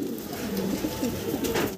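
Chinese owl pigeons, a fancy breed, several with cream bar markings, coo softly in a soft, continuous murmur of low throaty calls with faint rustling, no voices.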